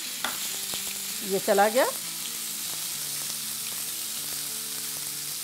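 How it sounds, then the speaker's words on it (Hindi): Half a pound of minced meat (keema) fries in oil in a pan, a steady close sizzle. A short burst of voice breaks in about a second in, and the frying carries on. "हमें कीमे को जब तक फ्राई करना है जब तक कि कलर चेंज ना हो जाए"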